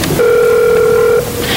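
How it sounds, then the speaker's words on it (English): A cell phone call comes through on an office phone system, a steady electronic ring tone lasting about a second, fairly loud and close, with a brief higher chirp just after it. "If you're receiving a call to your cell phone,"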